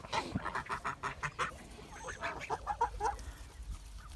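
Three-month-old Kholmogory goslings call in a rapid, uneven run of honking and peeping cries, loud and close, with soft background noise between the calls.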